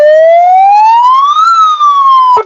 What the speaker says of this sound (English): It's like a car siren.